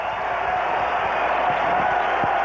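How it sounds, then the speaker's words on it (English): A baseball stadium crowd during a Detroit–California game in the ninth inning, a steady broad murmur of many voices holding at an even, fairly loud level with no distinct cheers or applause standing out. "Listen to the crowd."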